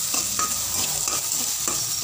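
Onions and green chilies stirred and sautéed in a pan for kolukkattai, a steady close sizzle of frying with periodic scraping strokes of a spoon against the pan.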